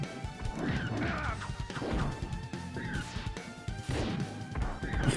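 Bombs blow up in the side-scrolling beat-'em-up The Ninja Saviours, giving several loud crashing bursts at irregular intervals over a busy, continuous game soundtrack.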